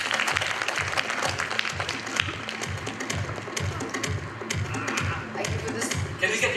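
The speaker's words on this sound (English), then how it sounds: "Can you please have a round of applause for the winner?" An audience applauds a winner at a leadership event, a dense run of claps with a loud rhythmic thumping underneath and talk over it.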